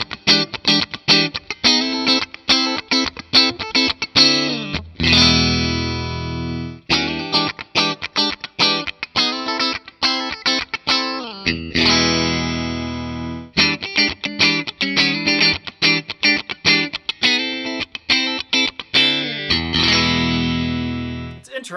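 Fender American Performer Timber electric guitar with a sassafras body played through its in-between pickup settings, with bright chords and picked runs ringing through effects, with short pauses between passages.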